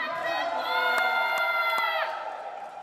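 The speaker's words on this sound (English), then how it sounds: "She's got a bit of crowd support there" A crowd at a pickleball semi-final match cheers and whoops loudly, voices rising together with a few sharp claps before the roar fades away.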